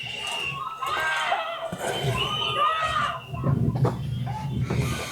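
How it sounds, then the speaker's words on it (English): Onlookers at an ICE immigration enforcement protest shout and yell at federal agents walking back to their vehicles, several raised voices overlapping in loud, agitated bursts with crowd noise throughout. "We saw observers shouting at the agents as they walked back to their vehicles."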